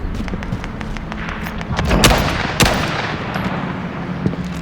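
M1 Garand rifle gunfire in Call of Duty, with a few heavy booming shots standing out over a dense bed of distant battle gunfire and rumble; the shots are spaced apart and come without talk.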